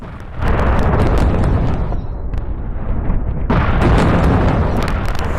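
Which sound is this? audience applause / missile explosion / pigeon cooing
missile explosion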